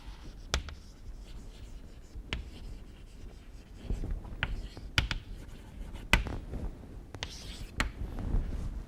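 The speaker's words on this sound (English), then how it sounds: "let me write it here" Chalk or marker writing on a board during a maths lecture on topology and affine space: a run of scratchy strokes and sharp taps, close and moderately loud, with a faint murmur of voice in places.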